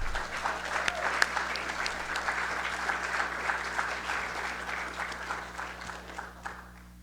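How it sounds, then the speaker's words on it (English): Audience at a university student media awards ceremony clapping steadily in a hall, a sustained round of applause that holds for several seconds and then fades near the end. "hold your applause till the end"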